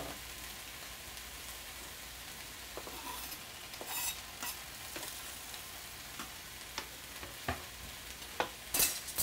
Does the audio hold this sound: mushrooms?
yes